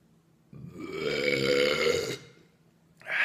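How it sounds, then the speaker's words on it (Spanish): A long, loud, voiced burp lasting about a second and a half, rising abruptly out of quiet, heard right after drinking an American wheat beer, with a brief faint noise following. "Recomiendo para amantes de tirarse eructos."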